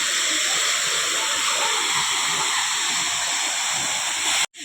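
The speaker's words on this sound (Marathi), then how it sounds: "मंदिराच्या बाजूकच धबधबा" A waterfall beside a village temple roars in a constant, loud rush of falling water that cuts off abruptly at the end.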